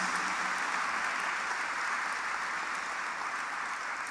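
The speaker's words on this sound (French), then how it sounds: "applaudissez le Seigneur. Plus fort, avec plus de confiance" A church congregation applauds the Lord during a Saturday homily, a dense, steady wash of many hands clapping at once, moderately distant and sustained without a break.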